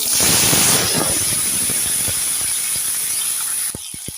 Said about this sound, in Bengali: আলু আর বেগুনটাকে ভালো করে ভেজে নিয়েছি